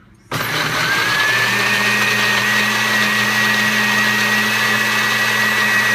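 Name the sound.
KitchenAid blender pureeing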